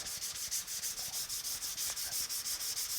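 The hood of a 1950 Chevy truck is sanded by hand, with steady rhythmic rasping strokes, about five per second, close and continuous, and no talking.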